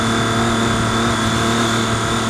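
A 2013 Triumph Street Triple R motorcycle engine runs loud and steady at high revs, a continuous mid-pitched drone held close throughout with no voices.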